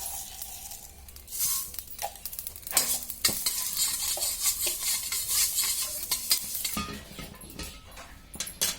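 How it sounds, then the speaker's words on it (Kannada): Fenugreek seeds, then mustard seeds, are dry-roasted in a pan for coriander chutney, with a spoon scraping and stirring constantly, seeds skittering and clinking against the metal, rising to a brisk rattling sizzle midway. "ಮೆಂತ್ಯ ಹಾಕಿ ಹುರ್ಕೊತಾ ಇದ್ದೀನಿ."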